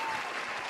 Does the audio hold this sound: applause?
yes